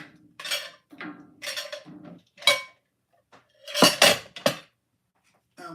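Dishes clink and clatter as they are lifted out of a kitchen dish rack, several bright bursts of ceramic and cutlery knocking together with short pauses between, close and loud.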